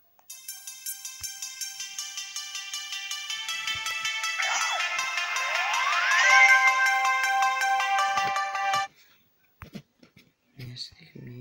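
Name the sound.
phone notification ringtone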